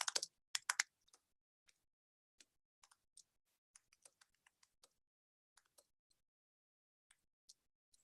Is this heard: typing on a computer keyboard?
yes